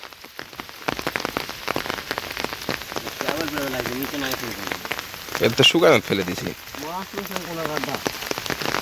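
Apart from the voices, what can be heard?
heavy rain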